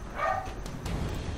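A dog barks a couple of times in the dark fantasy game Darkest Dungeon: short, fairly quiet yips and barks over a low ambient backdrop.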